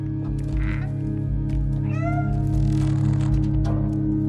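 A cat meows in the video game Stray, a pair of drawn-out, rising calls heard over a steady hum of game music and ambience, fairly close and clear.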